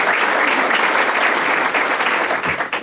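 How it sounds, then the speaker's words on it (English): Audience applause at a City Colleges of Chicago event, a loud, dense and steady wash of clapping that eases slightly at the close. "let's give him a round of applause"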